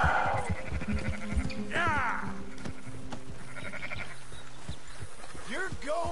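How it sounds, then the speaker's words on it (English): A sheep bleats in Red Dead Redemption 2 after being run over by a rider, several wavering bleats mixed with other game sounds and a voice talking over them. "Oh my god, I just ran a sheep over."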